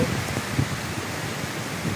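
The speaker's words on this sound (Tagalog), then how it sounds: "Pero yung hangin malakas pa rin." Strong typhoon wind roars steadily, a dense rushing noise with gusty swells and no voices.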